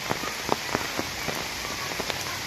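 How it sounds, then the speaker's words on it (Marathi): Heavy rain pours on the path at Karnala Fort near Panvel, a dense steady hiss with scattered close drops pattering on surfaces and no voices. "पाऊस खूप आहे"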